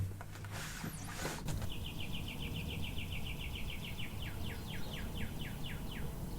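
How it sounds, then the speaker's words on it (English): A cardinal singing just outside an open window, a clear repeated run of bright whistled notes that speeds into a rapid series, set against steady background noise, with a brief door or window sound at the start. "Listen to that bird."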